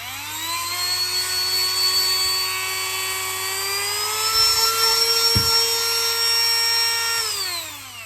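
A Milwaukee C12RT M12 cordless rotary tool runs with a high, steady whine that climbs slightly in pitch as it speeds up, holds, then winds down at the end, with a couple of brief knocks partway through.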